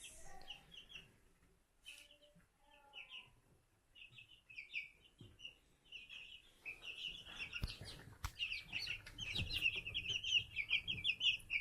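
Curious pet chickens near their roosting bar, clucking and chirping in repeated soft calls that grow busier and louder toward the end, close to the listener with no talk.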